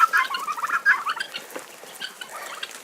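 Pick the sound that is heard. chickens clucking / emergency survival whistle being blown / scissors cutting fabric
chickens clucking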